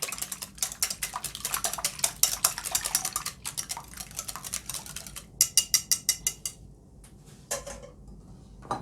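Egg mixture with a pinch of salt, for a potato and spinach gratin, being beaten in a bowl: a fast, steady run of close clinks and taps from utensil on dish, quieter for a moment, then a burst of sharper strokes, with no talking.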